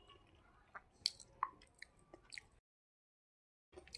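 Someone chewing a mouthful of chicken and vegetables from a Bengali thali: close, soft wet squishes and small crunchy bites in an irregular rhythm, then a moment of silence before chewing resumes.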